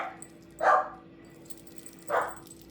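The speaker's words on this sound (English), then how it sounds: "Sorry for the dog barking." A pet dog barks indoors, two sharp single barks about a second and a half apart, moderately close over a low steady hum.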